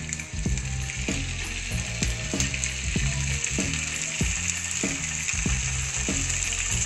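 Meat sizzles loudly in a hot pan, a steady crackling hiss with rhythmic scraping and clanking of a utensil stirring.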